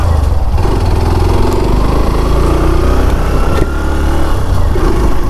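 Hero Glamour X 125 motorcycle, a 125cc single with push-button start, settles into a steady idle close by, its low engine pulse chugging evenly throughout with no talk.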